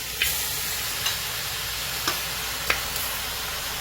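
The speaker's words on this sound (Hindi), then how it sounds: "सबसे पहले हम कढ़ाई में गोश्त डालेंगे।" Mutton sizzles and fries steadily in hot oil in a kadai, a constant close hiss broken by a few sharp clicks and scrapes from stirring.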